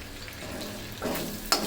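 Chicken pieces for a Bihari chicken dish fry in hot mustard oil, a close, steady crackling sizzle that surges louder as the pieces are stirred and turned, with a sharp clink near the end.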